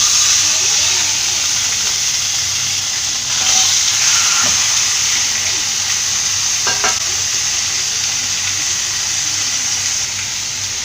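Seabream rubbed with masala sizzles steadily in hot olive oil in a pan, a continuous close hiss and crackle with a few brief spatters and no talking.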